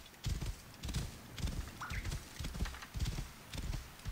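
Rhythmic hoofbeats of a galloping horse in Assassin's Creed Origins, a repeating triple-beat clip-clop cycle about twice a second, moderately close and steady, with a brief faint whinny-like sound midway.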